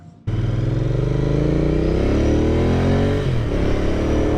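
Royal Enfield Continental GT 650 motorcycle riding on an open road, its parallel-twin engine loud and close, rising steadily through a long acceleration with a brief dip near the end as it shifts and pulls again.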